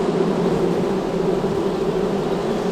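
A honeybee swarm hums steadily at the hive during a spring honey harvest, a dense, continuous buzz from many bees close by that holds level throughout without any voices.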